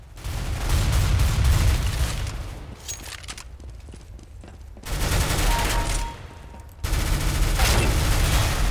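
Gunfire in Counter-Strike: Global Offensive as several players shoot at once, dense bursts of automatic fire in loud stretches broken by short pauses.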